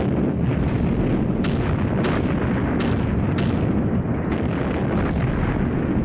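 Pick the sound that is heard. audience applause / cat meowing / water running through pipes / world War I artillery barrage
world War I artillery barrage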